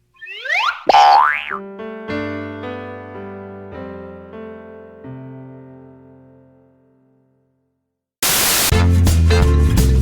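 A springy cartoon boing from the game You Don't Know Jack (2011) wobbles, then descending bouncy tones fade out into silence, followed by a sudden burst of loud static.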